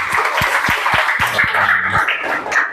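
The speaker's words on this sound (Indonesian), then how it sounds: "Oke, tepuk tangan dulu untuk kita semua" Students in a seventh-grade classroom clap hands in a short patterned rhythm, a series of sharp, evenly spaced claps over a background of children's chatter and voices.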